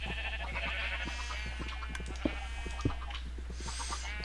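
Sheep bleat repeatedly in the Minecraft 1.6.4 video game: several wavering, nasal calls overlap one another above a steady background of game sounds, with a couple of sharp taps in between.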